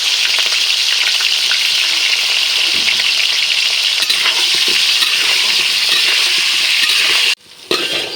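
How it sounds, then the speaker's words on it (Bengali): Potatoes frying in oil in a kadai, a dense, constant close-up sizzle with faint stirring scrapes that cuts off abruptly near the end before a brief quieter crackle resumes; no speech. "আলুগুলো ভাজা হয়ে গেছে"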